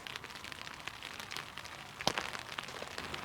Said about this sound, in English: It's raining pretty good now, so I'm gonna stow my camera for a bit.